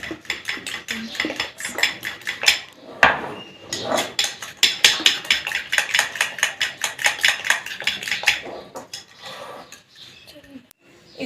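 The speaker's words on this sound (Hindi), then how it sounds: "आपने आहिस्ता आहिस्ता चीनी डालते जाना है और इसको बीट करते जाना है" Fruit chaat cream mixture beaten steadily in a bowl as sugar is added for a Ramadan recipe, giving a fast, rhythmic run of close metallic clinks and scrapes that pauses briefly and then resumes.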